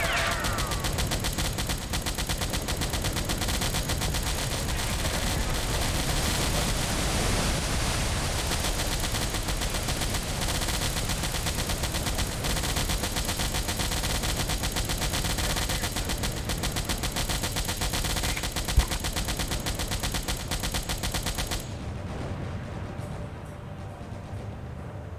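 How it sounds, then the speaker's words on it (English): Sustained machine gun fire rakes a submarine in Silent Hunter IV, a dense, continuous rattle of shots that stays loud and steady for over twenty seconds before cutting off near the end. "Oh, he's shooting us with machine guns."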